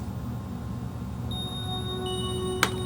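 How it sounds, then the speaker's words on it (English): Bright bell tones chime in over a steady electronic beat sequence, a few ringing notes entering midway, with one sharp accent near the end; no voices. "We'll add some bells now."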